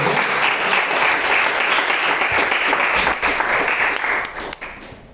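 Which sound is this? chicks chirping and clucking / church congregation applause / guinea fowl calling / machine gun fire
church congregation applause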